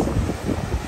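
Wind at Kollam beach buffets the microphone in low, steady rumbling gusts, loud and close, with a faint airy hiss behind and no speech.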